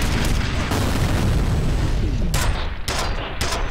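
Gunfire and a grenade blast in the shooter game F.E.A.R., loud rapid shots and booming bursts packed together, with a couple of sharp pops near the end and no talk over it.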